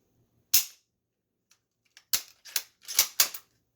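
A bolt action rifle fires a sharp report, then a quick run of metallic clacks as the bolt is cycled, loud and close with no talk.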